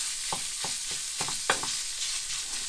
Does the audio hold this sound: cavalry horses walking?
no